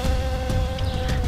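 Wild bees buzzing around a honey hive in Hadzabe country, a steady close droning hum of many insects filling the whole short stretch with no voices.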